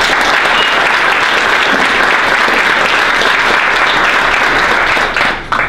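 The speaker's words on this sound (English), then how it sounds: "So let's get another round of applause for the organisers, Magda and her team" Conference audience applauding the event organisers, dense sustained clapping from a large crowd filling the room, steady and loud before tapering at the end.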